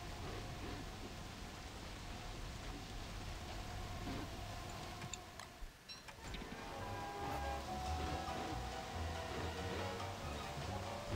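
Rainfall in the survival game Don't Starve Pocket Edition during a cold spring: a faint, steady hiss of rain runs throughout, with a brief dip in the middle.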